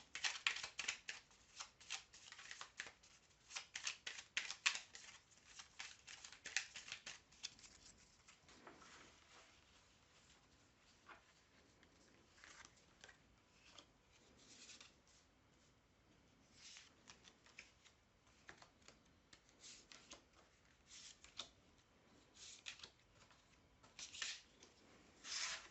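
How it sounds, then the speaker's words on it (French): A deck of oracle cards being shuffled by hand, with bursts of riffling and sliding card sounds that come and go over about 25 seconds, fairly close and with no talking. "je remélange et je tire cette carte."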